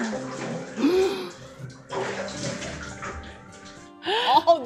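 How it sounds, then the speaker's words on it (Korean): In a home bathroom, shower water runs in hissing bursts that come and go, mixed with voices and tonal sounds laid over the spray. "오, 샤워하는구나."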